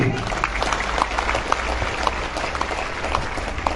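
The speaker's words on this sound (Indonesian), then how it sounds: "Tepuk tangan buat santri." An audience breaks into sustained applause for Islamic boarding-school students during a religious sermon, steady dense clapping from many hands filling a large space, with a few sharper claps standing out and no talk over it.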